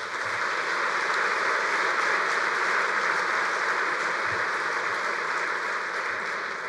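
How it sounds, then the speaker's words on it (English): A large convention audience at a bowling congress annual meeting applauds continuously, a dense, even wash of clapping that holds steady from start to finish. "Please give the board of directors for BPA a round of applause."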